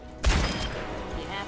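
Ashe's rifle from Overwatch fires one loud, close shot with a sharp low thump, followed by a lingering game-action din as other sounds from the match continue underneath.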